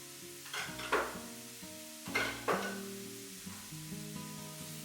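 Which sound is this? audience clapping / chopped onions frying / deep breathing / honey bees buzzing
chopped onions frying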